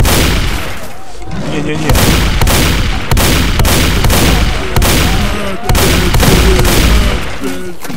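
Heavy shotgun blasts in the video game S.T.A.L.K.E.R., a repeated series of loud booming shots over about eight seconds, mixed with a voice talking over the gunfire.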